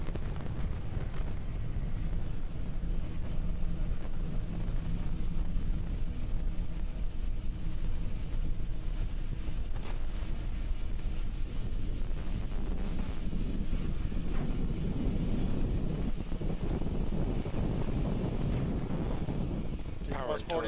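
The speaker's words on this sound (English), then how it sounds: "We're currently throttling down the 9 Merlin 1D engines on the first stage" Nine Merlin 1D engines on a Falcon 9 first stage roar steadily during launch, a dense continuous rumble, with a mission-control voice talking over it.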